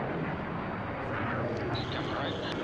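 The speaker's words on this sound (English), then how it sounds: "we just saw XB-1 leave the ground" Boom Supersonic XB-1 supersonic jet taking off, a steady broad roar heard from a distance under people talking nearby.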